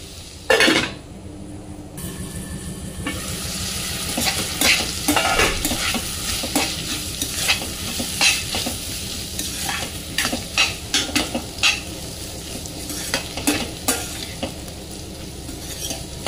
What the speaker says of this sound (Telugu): మధ్య మధ్యలో కలుపుకుంటూ ముక్క మగ్గే వరకు సిమ్లో మూత పెట్టుకొని వేయించుకోండి.